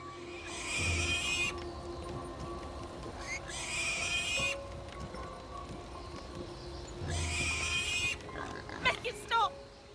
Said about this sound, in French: On va se trouver un autre cochon, on va lui parler.